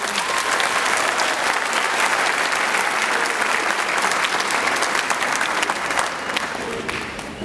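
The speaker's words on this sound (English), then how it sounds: "Can we have a round of applause for our section?" A school concert audience at a 7th and 8th grade spring orchestra performance applauds loudly and steadily for several seconds, a thick sustained wash of many hands that eases off slightly near the end.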